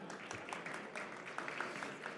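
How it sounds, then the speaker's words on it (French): Audience at an industry event applauds, a soft, fairly distant patter of many hands clapping with a few sharper claps standing out. "Merci d'applaudir Anne"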